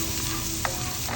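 Garlic fries in butter and oil with a dense, continuous sizzle heard up close, with a faint scrape partway through.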